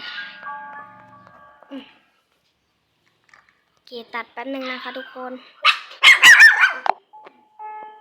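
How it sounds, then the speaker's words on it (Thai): A short bell chimes in the video game Granny, with someone talking and a small dog barking around it. "มีเสียงกระดิ่ง"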